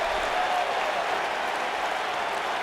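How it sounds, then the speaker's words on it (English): A wrestling crowd cheers and applauds a new MOCW World Heavyweight Champion, with steady, dense clapping and roaring that fills the whole stretch without pause. "This crowd, listen to that reaction."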